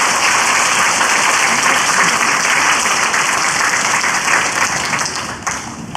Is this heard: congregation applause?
yes